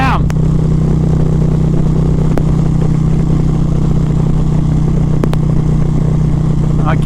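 A 2023 Indian Pursuit Dark Horse motorcycle cruising in fourth gear, its engine droning steadily and loudly at constant speed with wind rush, a few faint clicks over the continuous hum.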